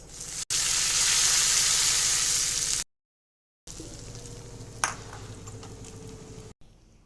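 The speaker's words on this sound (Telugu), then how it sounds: "మరో సింపుల్ వేరియేషన్ వచ్చి పోపులో లవంగం వేశాను ఒక్కటంటే ఒక్కటే" A single clove dropped into hot oil for a Telugu tamarind pulusu tempering, giving a loud, steady frying sizzle that cuts off, then returns quieter with a brief sharp crackle.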